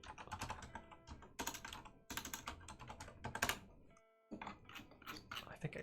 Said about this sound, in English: I think I left my keyboard on in the last video.